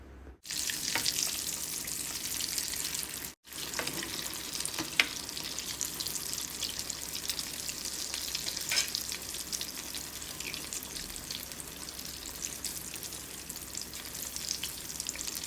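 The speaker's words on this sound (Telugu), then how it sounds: "ఈ లడ్డూల్ని ఈ పిండిలో ముంచి బాగా కాగే నూనెలో వేసి వేయించుకుంటే పూర్ణాలు రెడీ" Chana dal purnalu, filled balls dipped in batter, fry in very hot oil with a continuous close crackle and sizzle and occasional stirring sounds. Nobody speaks.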